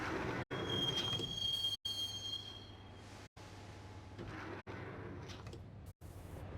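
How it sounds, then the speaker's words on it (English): A subway train rolling along in the Max Payne game, a steady rumble with a thin metallic wheel squeal near the start, broken by several short total dropouts, with no talking. "the train doors had already shut behind me, and I was in for the ride"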